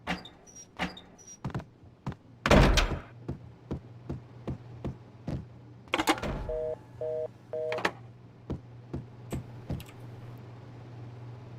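Cupboard doors opening and closing in Max Payne, a rapid series of sharp wooden clacks and knocks, with a few louder bangs and short electronic beeps over a low steady hum.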